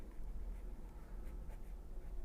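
A pen scratches across paper while a class 10 maths problem is worked out, a faint, steady close scribbling with no talking.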